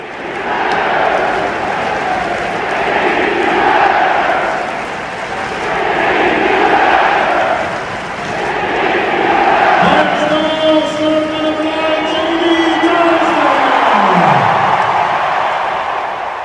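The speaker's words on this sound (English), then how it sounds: "take a listen to the crowd's response" A hockey arena crowd chants in loud rising and falling waves at a Philadelphia Flyers game against the Devils, followed by a steady blaring tone that ends with a falling sweep.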